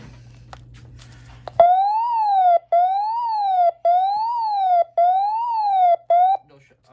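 A Midland WR11 weather radio in test mode blares its alert tone, a loud, close electronic warble that sweeps up and down in repeated rising-and-falling bursts with short gaps, after a low background hum.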